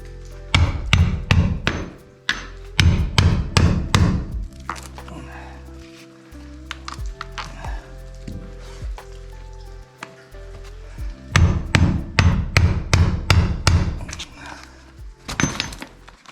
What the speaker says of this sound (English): Hit it with the hammer a few times.